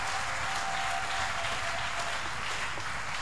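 Applause from a church congregation at a French-speaking Sunday worship service: a dense, steady wash of many hands clapping that holds at an even level throughout, with no break.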